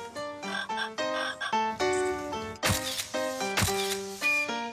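A frog croaks near a wooden stilt house, a run of loud, rhythmic, throaty calls that repeat in quick succession, with two sharp broadband bursts partway through.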